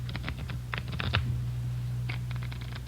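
A deck of playing cards is shuffled up close, with rapid crisp riffling bursts, then a pause, then another riffle. A steady low hum runs underneath.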